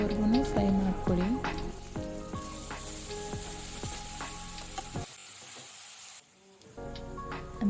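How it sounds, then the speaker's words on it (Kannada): Ginger garlic paste frying with onions in a pan for chicken gravy, a steady close sizzle with repeated spoon stirs and scrapes, briefly dropping to near silence before the frying noise returns. "ನೆಕ್ಸ್ಟ್ ಇದಕ್ಕೆ 2 ಟೇಬಲ್ ಸ್ಪೂನ್ ಶುಂಠಿ ಬೆಳ್ಳುಳ್ಳಿ ಪೇಸ್ಟ್ ಹಾಕ್ಕೊಳ್ಳಿ. ಹಸಿ ವಾಸನೆ ಹೋಗೋವರೆಗೂ ಫ್ರೈ ಮಾಡ್ಕೊಳ್ಳಿ"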